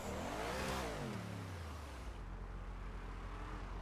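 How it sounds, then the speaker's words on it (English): Loud race cars in GTA 5 roaring past, a close engine revving up and sweeping through a pitch rise and fall, then fading into a steady low rumble. "I can hear stuff, but that's entirely because there's a lot of loud cars"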